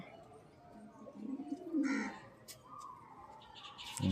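Madras pigeons coo softly in a loft, a low rolling call rising mid-clip amid faint background noise and a few scattered sharper sounds.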